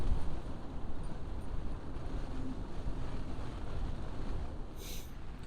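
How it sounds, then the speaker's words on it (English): Wind blowing at a carp fishing lake in winter, a steady broad rush with gusts buffeting the microphone, continuous and fairly loud with no voices. "it's so windy"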